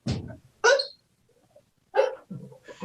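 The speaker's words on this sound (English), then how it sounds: "I guess the dogs are barking" Dogs bark in a few sharp, separate bursts with short silences between them, moderately close, with no talk alongside.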